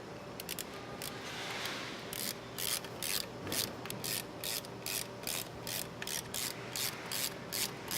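Screws on a Honda motorcycle clutch cover are tightened during a Magura HYMEC clutch kit install, giving a close, quiet run of repeated ratchet clicks in a steady rhythm, with short bursts separated by brief pauses.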